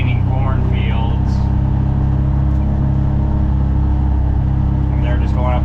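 Vehicles pass on rural roads lined with standing cornfields, a constant low engine rumble and whir running throughout, with faint voices or calls drifting over it.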